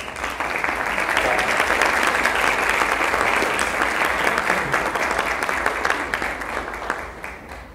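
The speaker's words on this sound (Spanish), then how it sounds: "quiero pedir un fuerte aplauso para el ingeniero Jorge Chapas" An audience at an environmental debate forum applauds loudly and steadily for several seconds, with dense clapping that holds strong and then gradually thins and fades near the end.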